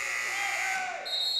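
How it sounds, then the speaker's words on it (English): Steady electronic timeout buzzer sounding through a gym during a high school boys volleyball match, loud and continuous with a slight pitch shift near the end, crowd noise faintly underneath. "The buzzer went."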